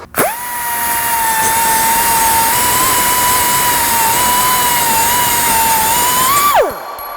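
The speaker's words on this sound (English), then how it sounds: "Cutoff wheel seems like the easiest way to deal with this." A cutoff wheel cuts into metal on a 1998 Ford Contour, a loud, steady high-pitched whine with gritty grinding noise, held close and unbroken for several seconds before spinning down.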